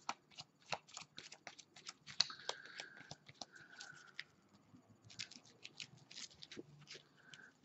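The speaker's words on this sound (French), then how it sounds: "je coupe en deux et je passe les cartes entre elles. Comme elles sont plastifiées, ça va vachement bien." Sleeved, plastic-coated playing cards are cut in two and shuffled together, giving quick, soft rapid flicks and riffles in bursts, close and fairly quiet.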